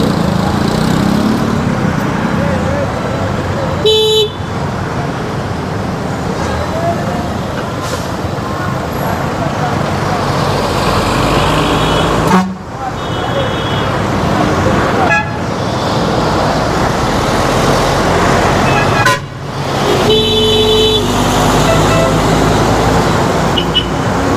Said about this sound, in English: traffic is all of a sudden cranked up another level as we come down to Latina.